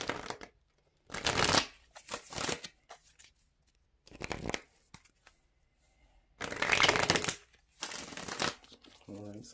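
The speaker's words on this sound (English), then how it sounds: "let's get one more shuffle." Tarot cards are shuffled in several separate crisp bursts, close and fairly loud, each lasting a second or so with short quiet pauses between them.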